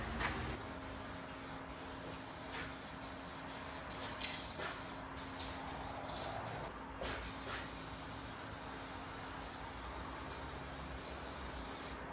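Spray gun applying the final paint coat to Jeep XJ flat fenders, a steady low hiss running throughout with brief pauses and bursts, close and fairly quiet, no talking.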